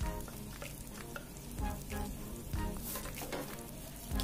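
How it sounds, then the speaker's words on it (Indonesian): Sliced petai beans stir-fry in a pan while being cooked for nasi liwet, giving a soft, steady sizzle broken by repeated scraping stirs. "Kita tumis lagi"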